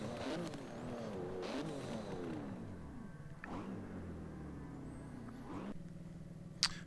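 Race car in Forza 7 accelerating down a straight and then braking, engine note climbing and falling through repeated gear shifts, ending with a sharp brief squeal, all moderately loud with no talk.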